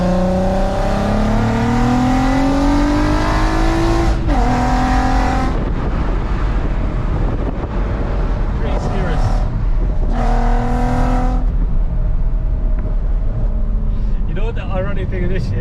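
Straight-piped VW Golf R32 revving hard in second gear on a country lane, its loud raspy exhaust climbing and dropping through several sharp rev bursts and pops, very close.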